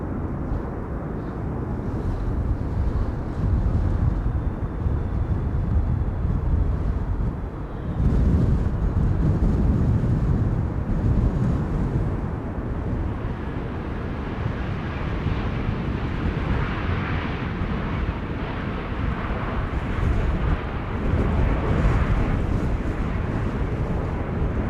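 A Play airline jet arriving from Reykjavik at Amsterdam Schiphol on a windy day, a steady deep roar heard from a distance, mixed with gusting wind rumble on the microphone that dips briefly and then swells again.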